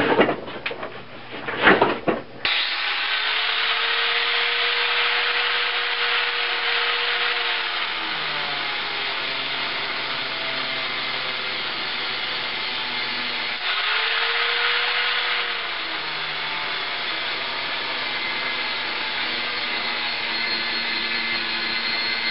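An angle grinder with a cutoff wheel cuts a knife blade profile from steel, a loud, steady high whine and grinding roar that runs almost continuously, with the pitch dipping under load twice after a brief rattly start.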